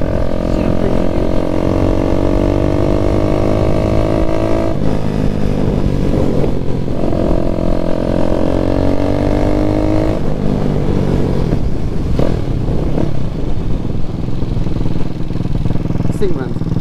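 Daytona 212cc engine on a Grom-clone motorcycle running loud and close in cold weather, holding a steady throaty drone with a few shifts in pitch as the revs change, and some rough, uneven patches later on.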